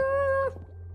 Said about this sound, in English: You're such a sad cat.